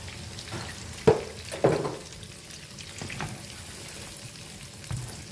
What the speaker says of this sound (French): Donc après, je vais mettre un verre d'eau.